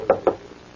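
Two sharp knocks on a laboratory door in a radio drama, close and distinct, a quick pair with a brief gap, then quiet room tone.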